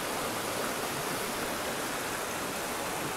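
A clear river near the Nippara limestone cave rushes steadily over rocks, a continuous close hiss of flowing water with no pauses.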